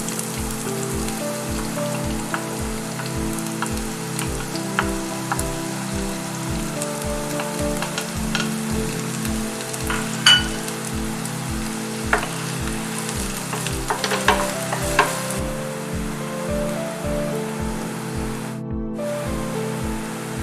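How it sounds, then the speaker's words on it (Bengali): Onions fry in a pan for Kashmiri dum aloo, a steady, close sizzle and crackle running throughout with soft, regular thuds underneath and no talking. "এবার দিয়ে দিব পেঁয়াজ।"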